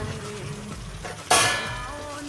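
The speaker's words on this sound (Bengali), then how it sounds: "এখন আমি খুব সামান্য পরিমাণে জল দেবো একদম কষা কষা আমি করবো খুব সামান্য পরিমাণে জল দিয়ে দেবো" Water splashes into a hot pan of sizzling tengra fish curry masala, giving a sudden loud hiss that flares up and then settles into a steady frying crackle.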